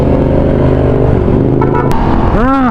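Heavy road traffic with motorcycles at a rotunda in the Philippines, a loud, steady drone of engines close by, with a rising whine from one revving vehicle near the end.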